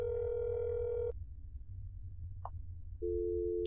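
Telephone tones in the game That's Not My Neighbor: a steady busy or dial tone for about a second, a quiet gap with a faint blip, then a second steady tone starting up, heard alone.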